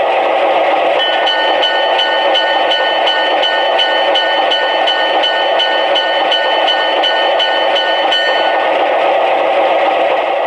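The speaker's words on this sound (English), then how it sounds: "And here's the bell." The bell of an MTH model GE 44-tonner diesel locomotive rings in a steady, rapid repeating ding over a constant loud engine hum, with no voices.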